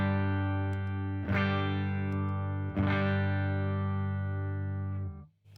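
Guitar played through a Fredric Effects Grumbly Wolf pedal: sustained, thick chords are struck a few times and ring out with slight grit before fading, close and alone.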